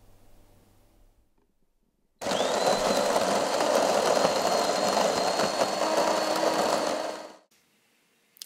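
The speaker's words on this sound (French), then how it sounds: "lorsque vous lancez une boisson et que vous entendez les meules se mettre en mouvement" A DeLonghi or Jura bean-to-cup coffee machine's burr grinder grinds beans in one loud, steady whir of about five seconds, with a sharp start and a tapering stop and no talk over it.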